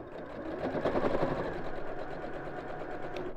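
Sewing machine stitching a strap seam at a steady pace, a fast even mechanical whirring and rattle that runs continuously and fairly close.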